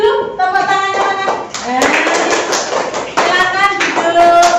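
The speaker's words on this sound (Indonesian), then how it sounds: "Terus tepuk tangannya dulu, tepuk tangannya mana?" A classroom of students claps together, loud and close, with bursts of clapping and thumps mixed in and people talking over it, alongside some musical or electronic tones.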